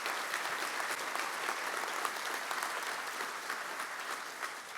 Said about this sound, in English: Let's give them one more collective round of applause.